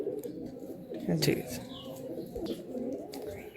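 Pencil-tail pigeons, adult breeding birds for sale in Naihati, coo softly in a low throaty burble over faint background noise while a person speaks briefly nearby.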